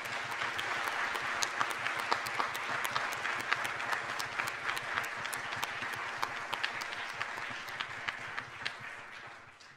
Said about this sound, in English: let's give a round of applause for our audio and video techs that have helped us out here